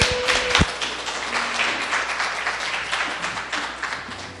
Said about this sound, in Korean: 큰 박수로 환영해 주시죠.